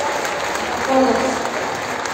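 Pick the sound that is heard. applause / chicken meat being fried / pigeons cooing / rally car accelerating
applause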